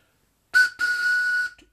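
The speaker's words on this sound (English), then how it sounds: "Train whistle." A toy train whistle bought off eBay is blown twice up close: a short shrill toot, then a longer sustained blast, both loud against silence.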